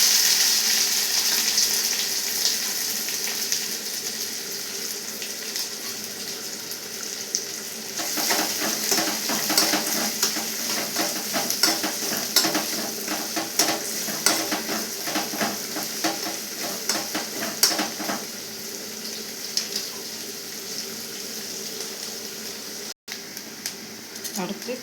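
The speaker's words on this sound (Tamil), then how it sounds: "அடுத்து வெங்காயம் கட் பண்ணி வச்சுக்கணும் போட்டு சேர்த்துக்கிடலாம்." Chopped onions fry with a steady sizzle in a pan while being stirred, with frequent scraping and clanking of the utensil against the pan throughout.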